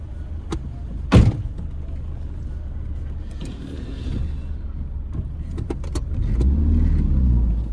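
A car starts to pull out on a street: a low engine rumble runs throughout, a sharp thump like a door shutting comes early, and the engine swells louder near the end as the car moves off.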